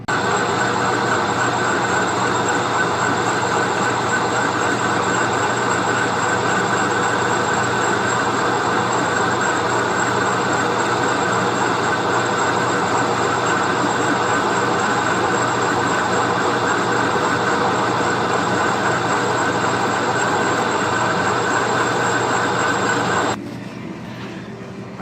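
A part for a grain bin auger is machined, giving a loud, steady droning hum with sustained tonal whine that runs unchanged for over twenty seconds before cutting off abruptly near the end.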